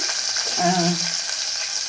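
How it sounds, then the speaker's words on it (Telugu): Curry leaves, garlic and dried red chilies fry in hot ghee for a tempering, giving a steady, close sizzle with soft crackling throughout. "ఎండుమిర్చి వేసేసుకున్నానండి. ఈ తాలింపు కొంచెం అట్లా వేడితే చాలండి."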